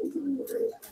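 A white pigeon cooing close up, one soft low warbling coo rising and falling under a second, with faint background noise.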